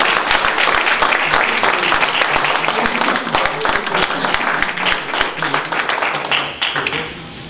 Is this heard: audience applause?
yes